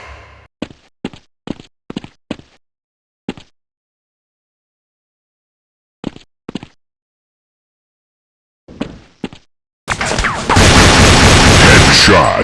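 Gunfire in the CS Mobile shooter game: a series of short sharp shots in quick bursts separated by silence, followed by a loud sustained burst of noise at the end.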